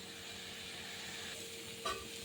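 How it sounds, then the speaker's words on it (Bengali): Leafy greens stir-fried in a pan as their water cooks off give a steady close sizzling hiss, with a brief clatter of stirring near the end. "এই জলটাকে সুন্দর করে টানাতে হবে, শুকনো হবে শাক ভাজা, খেতে ভালো লাগবে।"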